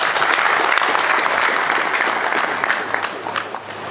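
Loud, dense clapping from a crowd at a dowry ceremony, sustained throughout and gradually thinning toward the end, with scattered sharper claps standing out.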